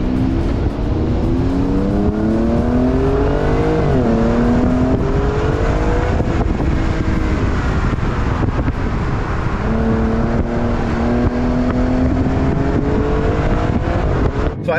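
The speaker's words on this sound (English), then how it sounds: "Bangs into the rev limiter pretty hard." A 2024 Alfa Romeo Giulia Quadrifoglio's 2.9 liter twin-turbo V6 revs hard and loud, pitch climbing and falling in repeated surges as it bangs into the rev limiter, sustained and close throughout.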